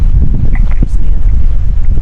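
Loud wind gusts batter the microphone in Saudi Arabia, a continuous low roar with a couple of brief faint higher sounds mixed in.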